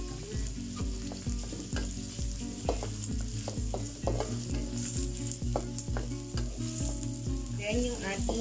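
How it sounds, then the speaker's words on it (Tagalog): Shrimp stir-frying in a pan for shirataki noodles, a loud steady sizzle broken by repeated rhythmic clanks and scrapes of a utensil stirring against the pan, close up. "Add mo natin yung shrimp"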